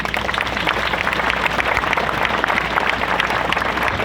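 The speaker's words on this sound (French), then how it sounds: "Applaudissez cet esprit." A church congregation applauds in a dense, steady burst of clapping that lasts throughout, loud and close, with no voices on top.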